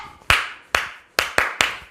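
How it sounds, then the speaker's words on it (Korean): Five sharp hand claps ring out in a stretching class, spaced unevenly with a short pause after the second, each crisp and close with a brief decay, no voices over them. "박수 다섯 번 시작!"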